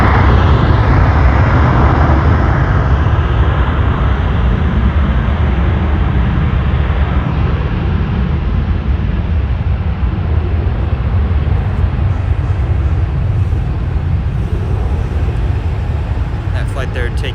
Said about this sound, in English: That flight there taking off. A Delta Airlines Airbus A321 headed to Atlanta.